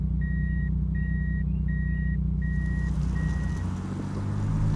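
Repeated reverse warning chime from an automatic-transmission Toyota Supra MK4, five regular beeps over a deep idling engine hum, the tones fading as the rumble shifts at the end.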